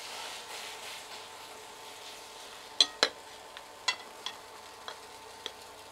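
Zucchini pancake batter fries in fat in a pan, giving a steady close sizzle scattered with sharp crackling pops and spits.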